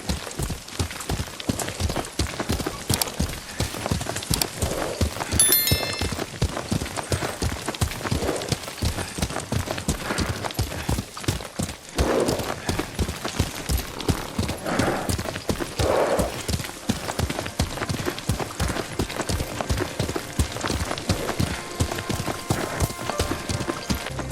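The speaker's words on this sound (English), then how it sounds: "Lord Sakai taught me to ride a horse." Horse hooves clip-clop steadily at a brisk pace throughout in Ghost of Tsushima, with occasional whinnies over soft rain-like ambience and faint game music.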